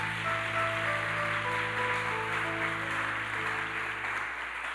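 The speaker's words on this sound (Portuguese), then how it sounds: "aplauda Jesus bem forte" A church congregation breaks into sustained applause during a worship service. The clapping is a dense, even wash that holds steady over soft, lingering keyboard tones, with no talking.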